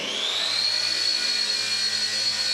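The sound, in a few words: RC helicopter motor starting and throttling up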